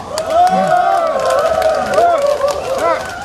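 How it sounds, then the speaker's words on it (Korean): A crowd at a political rally in Jeonbuk applauds and cheers steadily, a dense continuous roar of clapping and voices that stays loud throughout. "노력을 다하시는 김한길 대표님에게 어떠한 어려움이 닥쳐도 이 난관을 헤쳐달라고 뜨거운 격려의 박수 한번 부탁드립니다"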